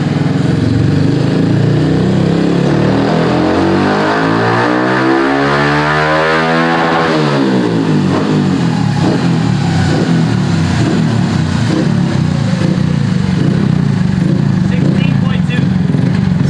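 A 2022 Honda Grom fitted with a 149cc big bore kit runs on a dyno, its engine winding steadily up to a high-pitched peak, then dropping back to a rough idle, loud and close.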